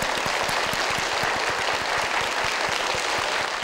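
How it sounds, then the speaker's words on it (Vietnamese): A studio audience at a Vietnamese game show claps for contestant Xuân, a dense, steady wash of applause lasting the whole stretch with no one speaking. "Chúng ta cùng dành một tràng vỗ tay thật lớn cho bạn Xuân."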